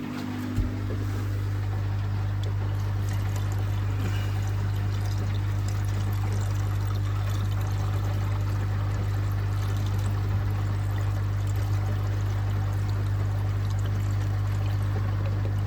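Water from a koi pond pouring onto a floor, a steady, low rushing flow with a constant pump-like hum underneath and a brief knock at the start, alone and fairly quiet.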